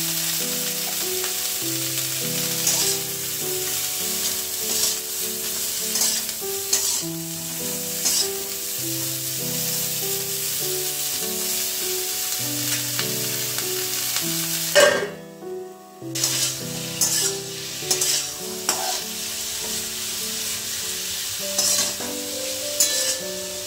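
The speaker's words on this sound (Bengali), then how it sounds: "একটু ঢাকা দিয়ে দিয়ে এটাকে ভাজতে হবে। একটু হলুদ দিয়ে দিলাম।" Cauliflower frying in oil with turmeric in a partly covered pan gives a continuous close sizzle with stirring scrapes, briefly dipping in the middle, under a background of tonal music and no speech.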